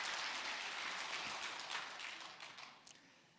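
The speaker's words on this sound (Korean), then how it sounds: "하나님께 영광의 박수를 같이 드리겠습니다" Congregation clapping together during a Sunday church service, a dense steady patter of many hands that gradually thins and fades toward the end, with no voices over it.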